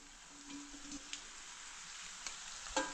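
Vegetables with onion masala, turmeric, carrot, tomato, peanuts and peas frying in a pan, a steady close sizzle with a few stirring knocks and a clack near the end, no voices.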